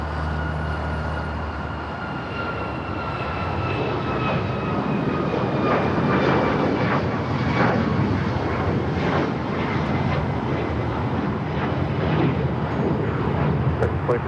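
A Boeing 777-300ER takes off from runway 25 right at LAX, a loud, steady jet engine roar that holds for many seconds and slowly swells, with no voices heard.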